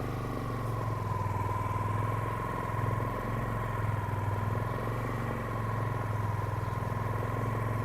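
A Yamaha Sniper 155 motorcycle engine idles with a steady, even low hum and faint whine at moderate distance during a riding skills assessment, continuing unchanged with no voices.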